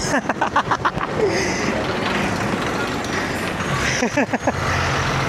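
A vehicle engine rumbles steadily throughout on a drive in Sri Lanka, with a few sharp clicks and rattles near the start and again toward the end.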